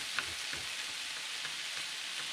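Ground venison burger meat browns in a pan with minced garlic, giving a steady, close sizzle and crackle with occasional stirring scrapes and no talking.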